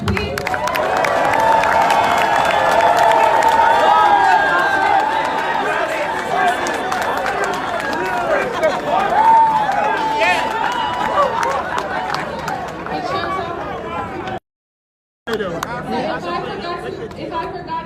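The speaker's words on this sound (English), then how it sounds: "Can I get a round of applause for Kabuye Boston, please?" A crowd at a community meeting in Boston applauds and cheers, with loud chatter and voices mixed throughout a sustained, busy wash of sound, briefly cut to silence near the end before resuming.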